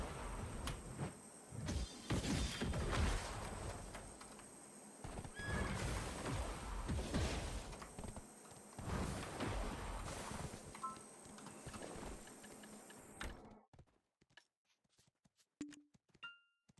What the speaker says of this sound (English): This is a Sage Horse, that's what it is.